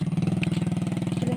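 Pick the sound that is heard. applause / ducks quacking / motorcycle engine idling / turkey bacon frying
motorcycle engine idling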